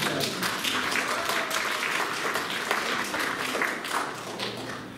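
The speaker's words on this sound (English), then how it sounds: "So go ahead and applaud." An audience applauds steadily and loudly at a talk on conservation and the causes of loon deaths, a dense crowd clapping that holds for several seconds and then begins to fade.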